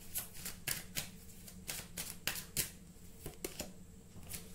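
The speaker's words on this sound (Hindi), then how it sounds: "यहाँ पर एक और कार्ड लेते हैं" Tarot cards are shuffled and drawn close up, a run of quick papery snaps and riffles in an irregular rhythm, fairly quiet and with no voices.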